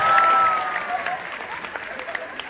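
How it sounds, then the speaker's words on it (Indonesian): Seminar audience breaks into applause, a burst of clapping from a crowd that starts full and then thins into scattered claps, with a faint voice briefly heard at the start. "Yang setuju pertanyaan ini tepuk tangan."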